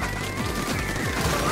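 Rapid bursts of Fizzy Bomb explosions crackle in Splatoon 3, a dense, loud popping fusillade filling the short moment without any talk.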